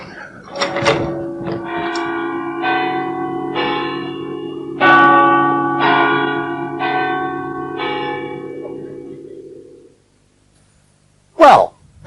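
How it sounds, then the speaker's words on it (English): Church bells in County Cork ring out in a loud, close peal of several overlapping strikes that hang and decay for about ten seconds, then stop, followed by silence and a brief sharp noise near the end. "that was a campanology start to the programme"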